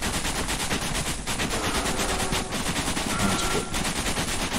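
Rapid automatic gunfire rattles nonstop in a survival video game, loud and dense, with a few sharper bursts and a brief spoken word.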